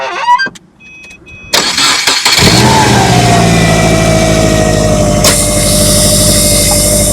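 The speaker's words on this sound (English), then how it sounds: "Go ahead and start the engine." A car engine cranks briefly during a battery cranking test, catches, and revs up loudly, then settles into a steady, strong running hum close by.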